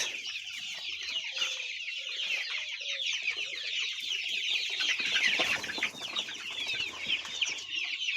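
Many young chicks chirping together in a brooding pen, a dense continuous chorus of high peeping with occasional clucks from nearby poultry, fairly close and steady throughout.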